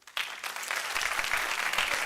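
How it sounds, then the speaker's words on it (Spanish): Audience applause at a student animation event, starting abruptly and holding as a steady, dense wash of clapping for about two seconds, moderately loud and without voices. "Un aplauso para él."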